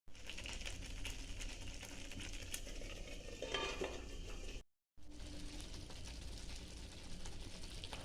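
A utensil stirs chicken and spinach in a pan for green hariyali chicken, giving a steady scraping and sizzling sound. It runs without a break apart from one short cut of silence.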